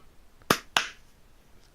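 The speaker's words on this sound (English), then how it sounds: "Clapping." Two sharp, close hand claps about a quarter second apart in a quiet podcast room, followed by silence.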